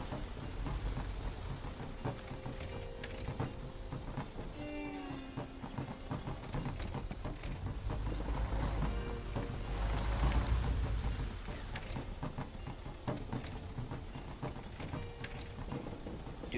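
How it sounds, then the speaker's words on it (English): Steady rain falls throughout on a hiking trail where a car is driven, with low rumbles like distant thunder underneath; the downpour is continuous and fairly close, and no one speaks. "Oh, now it's raining."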